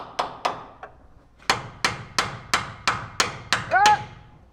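Hammer tapping a part into a wheel rim, about a dozen sharp ringing metallic strikes at a steady pace, close and loud, with a brief squeak near the end and no talk.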